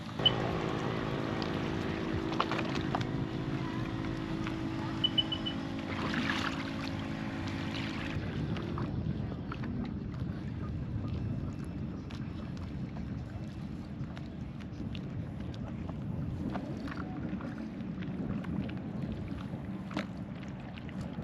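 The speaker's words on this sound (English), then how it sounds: "it's nice to be on the water, but it's a little windy" Steady wind buffets the microphone outdoors on Lake Pleasant, Arizona, with a faint boat engine hum early on and occasional light knocks.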